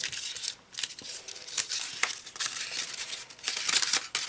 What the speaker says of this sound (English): So the first thing you want to do is you get your index cards and just crumple it up.